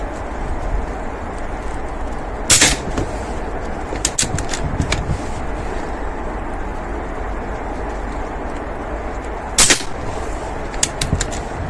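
An AP 900 air rifle fires pellets in two sharp, isolated cracks spaced several seconds apart, each followed by faint mechanical clicks, over a steady outdoor background hiss.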